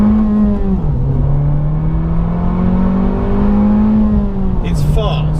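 An Abarth 695 XSR Yamaha hatchback's engine drones loudly and steadily from inside the cabin, its pitch dipping and rising with gear and throttle changes. A voice speaks briefly near the end.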